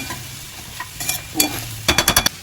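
Taro root and brinjal stirred while frying in oil in a pan, giving short spoon-on-pan scrapes and clicks over a low sizzle, ending in a quick run of rhythmic stirring knocks.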